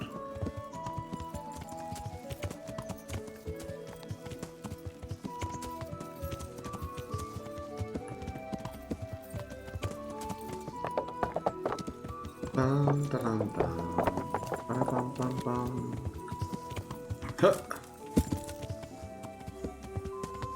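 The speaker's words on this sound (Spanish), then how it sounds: "Ah, este caballo árabe es demasiado hermoso." Arabian horse hooves clip-clopping steadily in the medieval video game Kingdom Come: Deliverance, a continuous rhythmic patter under game music and ambience, growing louder and busier toward the end.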